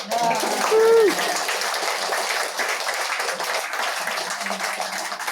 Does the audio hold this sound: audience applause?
yes